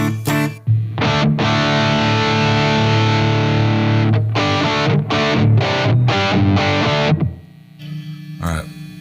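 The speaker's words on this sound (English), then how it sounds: "let's check out just what the different the preset cab sims that come with it sound like" A Blackstar HT Stage 100 MK III 100-watt amplifier plays heavily distorted electric guitar through its preset cabinet simulations, with long sustained chords followed by a run of choppy staccato stabs, then a quieter tail.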